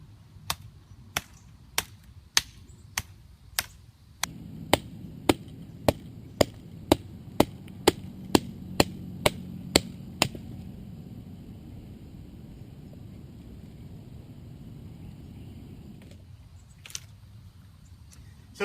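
A bushcraft knife chopping wood: about fifteen sharp, evenly spaced blows ring out close and loud over a low background rumble, then a long pause and one final strike.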